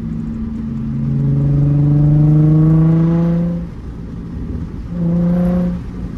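A Nissan 350Z sports car engine revs up in a long rising drone, drops off, then revs again more briefly, loud and close with a steady mechanical hum.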